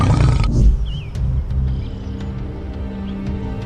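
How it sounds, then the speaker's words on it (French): A lion facing a porcupine gives a low, rumbling roar up close that opens loud and rough, then settles into a softer, continuous growl over a steady outdoor background. "Mais cette fois, c'est un lion devant lui."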